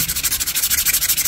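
Wood filler is sanded down to a smooth surface with quick, rhythmic back-and-forth scrubbing strokes, close and loud, with no talk.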